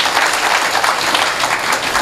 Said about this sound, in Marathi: तुम्ही टाळ्या वाजवताय